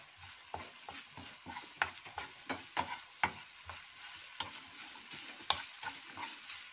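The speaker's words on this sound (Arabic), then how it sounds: "وهنطش التومة دي بالخل" Garlic fries in a pan as vinegar is added, a soft sizzle under a series of irregular scraping and clattering stirring strokes, fairly faint and close, with no voices.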